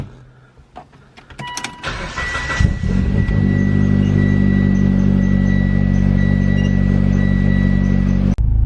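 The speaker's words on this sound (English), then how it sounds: "do a first startup with the new ARC blow valve" A car with a newly fitted ARC blow-off valve cranks over and fires up, settling into a loud, steady idle that runs alone without talk until a sharp click at the end.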